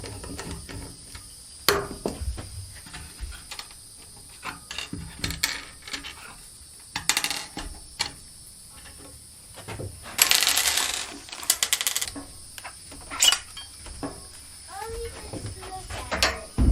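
A router setup for a bathroom wood ceiling is unscrewed: ratcheting clicks and turning noises come in irregular bursts, close by, with a louder grinding stretch midway and occasional talk.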